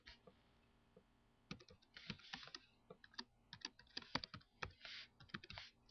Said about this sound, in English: so we'll type his name in